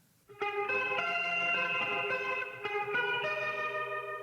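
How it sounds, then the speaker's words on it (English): Guitar chords played through a Fender Vibratone rotating speaker for a Leslie-style swirl in the verse of a song, sustained with a wavering, chorus-like shimmer and a few re-struck chords, loud and alone. "The Leslie guitar part that comes in on the verse right here."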